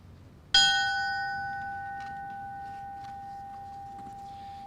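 A memorial bell at a 2021 fallen firefighter ceremony in Edmonton, Alberta, struck once and ringing clearly, its pure tone decaying slowly over several seconds against a quiet hall.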